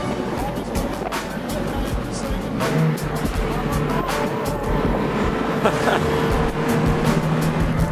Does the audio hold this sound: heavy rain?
no